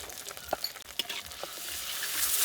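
Masala spices fry in a pan for a fish curry with potatoes and lentil bori, giving a soft, steady sizzle with a few faint pops and stirring scrapes, close by and fairly quiet.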